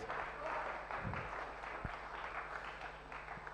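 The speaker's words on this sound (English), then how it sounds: "let's give our MCs and of course the team a round of applause for organizing this" An audience at a motivational talk gives a round of applause, a steady, fairly faint patter of clapping over a low electrical hum, with some voices mixed in.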